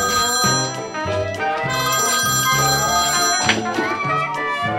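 A public street payphone rings loudly and continuously, its bright electronic bell pulsing in a repeating pattern, close and alone without talk.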